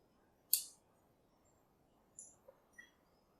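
Plastic model kit hand pieces for an Ultraman Trigger Multitype build snipped off the sprue: one sharp close click followed by a few fainter snips, with quiet pauses between them.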